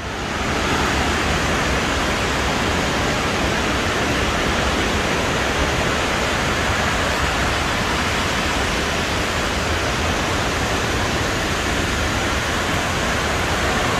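Steady, dense rush of falling water at Burney Falls, loud and unbroken throughout, heard up close with nothing else audible.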